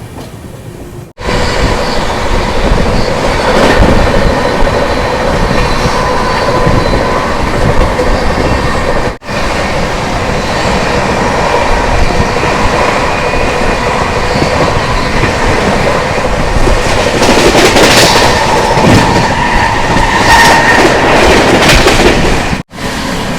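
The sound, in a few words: Baba Baidyanath Dham Express passenger train running on rails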